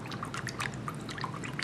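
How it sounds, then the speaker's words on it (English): Hot water poured from a small vessel into molasses for a Thai glass noodle salad, a quiet continuous liquid trickle with faint bubbly splashes, close and steady throughout. "And to get that molasses to disperse, some hot water."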